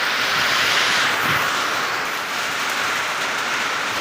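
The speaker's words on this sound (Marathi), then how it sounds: "आमच्या इकडं आता पाऊस सुरू झाला आहे" Steady, dense rain pouring down, a continuous hiss that stays even and fairly loud throughout, with no voices.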